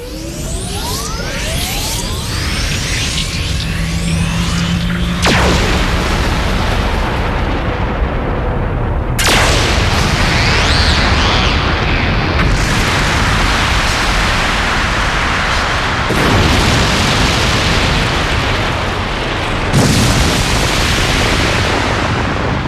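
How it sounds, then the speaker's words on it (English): Huge cannon blasts from the video game Growlanser: Heritage of War boom in a series of loud, sustained roaring explosions, each detonation followed by a long rumbling wash of noise, with no speech. "May this be the first and the last blast of this cannon."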